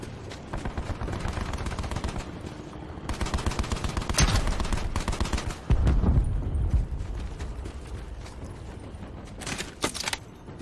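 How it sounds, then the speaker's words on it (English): Loud barrages of rockets and explosions in Call of Duty: Black Ops 4, with dense rapid-fire bursts and heavy booming impacts running continuously, swelling into bigger blasts partway through. "Rockets going off."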